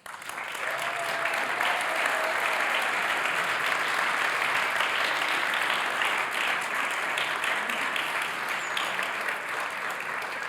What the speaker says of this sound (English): We would like to congratulate our host with a huge round of applause.